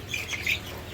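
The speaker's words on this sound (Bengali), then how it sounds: "দর্শক এই যে এখানে বাইরের কিছু কোয়েল পাখি আছে আর কি," Quail on a poultry farm give a few high, thin chirps over a soft, steady background hum in a brief moment with no talking.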